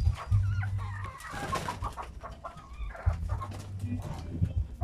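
Chickens cluck and murmur inside a backyard chicken house with nesting boxes, with low rhythmic calls, rustling and a little soft background talk.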